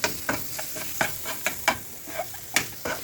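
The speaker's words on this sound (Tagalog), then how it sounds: "Ayan guys, magigisa-gisa na muna." Onions sautéing in a pan for a tilapia dish, with a soft continuous sizzle under about a dozen sharp scraping and stirring strokes at an irregular pace, close up and with no talking.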